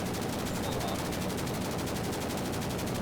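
Sustained rapid automatic fire from an M249 light machine gun in the game Blackhawk Rescue Mission 5, a dense, steady, loud stream of shots with no pauses and no talking.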